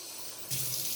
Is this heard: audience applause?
no